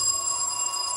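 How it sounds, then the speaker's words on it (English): A telephone bell rings steadily and fairly loud for a moment, its bright tones continuous, in a workshop where a Honda Z50 motorcycle is being looked over. "sorry about that interruption with the phone"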